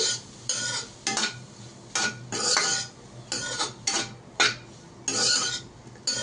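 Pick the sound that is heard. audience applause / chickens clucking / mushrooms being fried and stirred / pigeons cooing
mushrooms being fried and stirred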